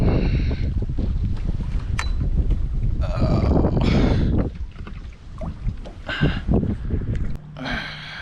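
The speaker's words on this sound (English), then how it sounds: "Probably hear the wind in the background. It's not friendly." Strong wind buffets an anchored fishing boat on a December outing, roaring loudly and continuously across the microphone before easing into gustier, uneven blasts, with no voices.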